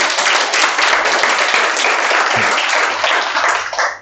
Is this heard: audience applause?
yes